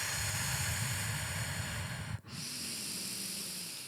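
Slow, audible breathing during a guided relaxation exercise, a long soft airy exhale that fades into a brief pause and then a quieter, steady breath, close to the microphone.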